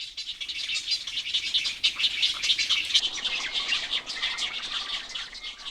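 Crowded calls and chatter of a great cormorant and heron nesting colony on an island in Paldang Lake, South Korea, fill the air continuously, loud at first, slightly thinner toward the end, with occasional flutter-like bursts.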